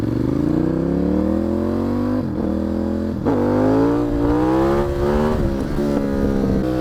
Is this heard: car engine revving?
yes